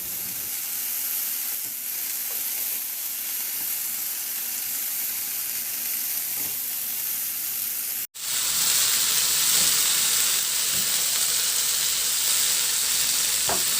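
Shredded cabbage sizzles and hisses loudly in a hot pan alongside carrots as it is stirred, a steady frying noise with a brief dropout midway before it resumes a little brighter.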